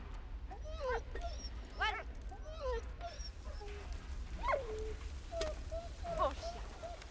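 Dog sounds from the video game Valiant Hearts: The Great War, with several short whimpers and yips scattered through the clip, heard over a steady low rumble. A person speaks briefly.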